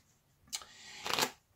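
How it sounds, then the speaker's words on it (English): Deck of playing cards being shuffled, a soft brief riffle followed by a longer fluttering burst of cards falling together, close and quiet. "give it a good old shuffle in two"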